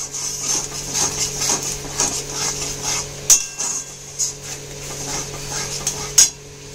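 Tomatoes being sautéed in a pan while a metal spoon or spatula stirs, clinking and scraping against the pan at an irregular rhythm, with a steady low hum behind.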